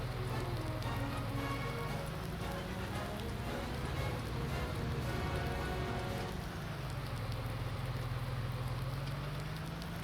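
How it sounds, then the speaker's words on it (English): Steady rain falling outdoors, a dense continuous patter that stays loud and even throughout, with a low rumbling hum running underneath and no voices. "Not sure whether this rain's going to let up anytime soon."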